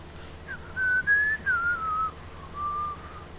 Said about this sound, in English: Sorry if you guys hear me whistling.